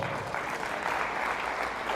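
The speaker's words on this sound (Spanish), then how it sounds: "se merecen un aplauso" Steady applause from a church congregation at a Wednesday worship service, a dense wash of many hands clapping at once that holds evenly from start to finish.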